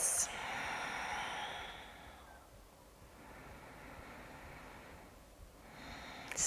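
Slow, deep breathing during a yoga practice: a long audible exhale, then a quieter inhale and another soft exhale, close and unhurried.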